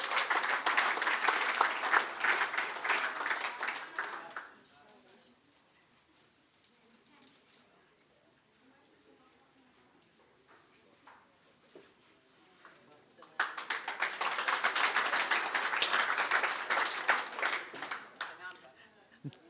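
Audience applause at an awards evening, a dense roar of clapping for about four seconds that drops to a quiet murmur, then surges back just as loud near the end.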